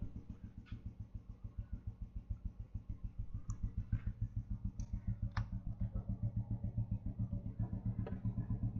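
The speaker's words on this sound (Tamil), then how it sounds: "இப்போ நம்ம சூப்பர் புல்லட்டை வந்து ஸ்டார்ட் பண்ணுவோம், எப்படி இருக்குன்னு பார்ப்போம்." A vintage Royal Enfield Bullet motorcycle running after a start, its single-cylinder engine thumping in an even, rapid beat at close range, with occasional faint clicks above the low pulse.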